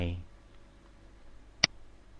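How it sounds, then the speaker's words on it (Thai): A single sharp computer mouse click comes after a brief pause, set in a quiet room during a spreadsheet formatting tutorial, with a voice speaking just before it. "ให้เลื่อนเมาส์ที่คำสั่ง format ด้านบนคลิกล งไป"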